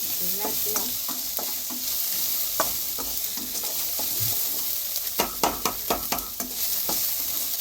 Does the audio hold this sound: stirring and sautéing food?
yes